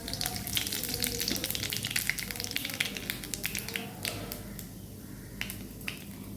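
Dried red chillies and nigella seeds fry in oil in a wok, giving a busy crackling sizzle full of sharp pops that thins out a little toward the end.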